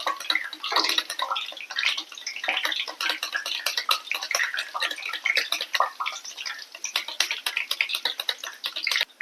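Raw banana is sliced on a blade slicer for banana chips, giving rapid, crisp, irregular cutting ticks and taps that continue throughout, close and fairly loud, with no talk.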